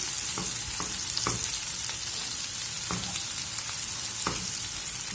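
Fava beans frying in a pan for a smoky breakfast dish under a constant close sizzle, with five or six quick scraping stirs cutting through at irregular intervals, no speech.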